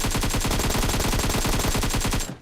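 Sustained rapid automatic gunfire rattles loudly and continuously for over two seconds as pre-fire in a mobile battle royale game, then cuts off abruptly.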